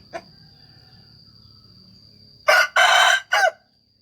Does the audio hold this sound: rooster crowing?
yes